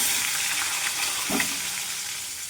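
Slit pointed gourd (potol), salted beforehand, frying in a pan, a steady broadband sizzle with a brief stir or scrape near the middle, close and continuous with no talk.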